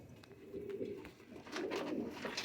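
Sialkoti breed pigeons coo softly in low, rolling bursts, faint and close, with rustling in the background.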